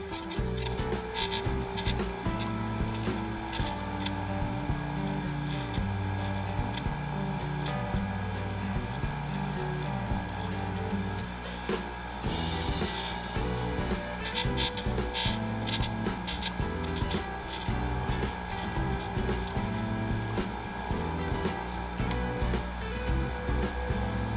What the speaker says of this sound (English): This is what grinding the chip chamfer looks like.